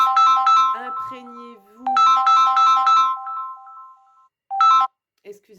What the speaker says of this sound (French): je ne sais pas pourquoi mon téléphone sonne